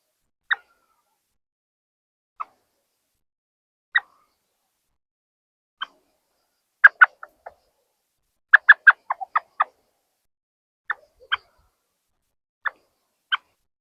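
A hand-blown hunting bird call imitating blackbird song, sharp separate whistled chirps spaced apart, then a fast burst of clustered notes, played close and clear against silence, with no talking.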